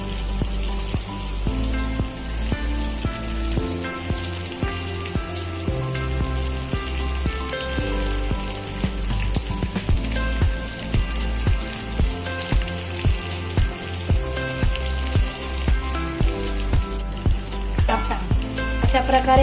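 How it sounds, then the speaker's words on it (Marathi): Stuffed bitter gourd (karela) with masala cooks covered on a low flame, giving a steady dense sizzle with constant crackling and popping, loud and close, with no one talking. "अशा प्रकारे मंद आचेवर त्याला 5 ते 10 मिनिटं आपण वाफेवर शिजवणार आहोत"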